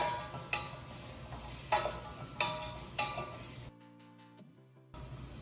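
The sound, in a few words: sauteing onions, garlic and diced carrots in a pan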